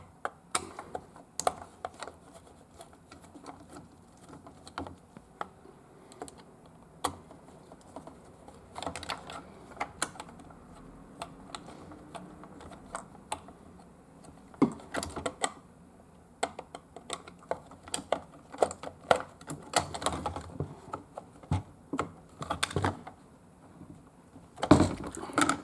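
Screws being removed from a Brother KH950i knitting machine during a repair: scattered small metallic clicks, taps and rattles of a screwdriver and loose parts, irregular and close, with quiet pauses between bursts.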